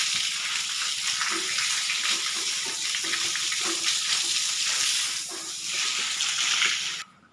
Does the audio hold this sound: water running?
yes